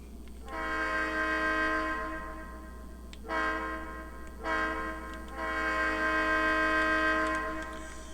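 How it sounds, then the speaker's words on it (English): A model train air horn from a Tsunami2 sound decoder sounds in three loud sustained blasts, each trailing off in a heavy echo over a steady low hum. "Now you can really hear how that extra atmosphere has really been added, and that helps that air horn sound a little bit more personal as well."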